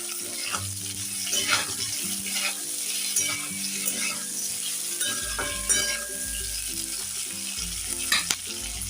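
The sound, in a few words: tomatoes, green chillies and ginger frying in a pan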